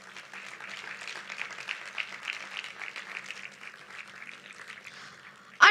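A large audience at a university anniversary celebration applauds award winners, with sustained, even clapping heard from a distance, ending in a sudden loud burst.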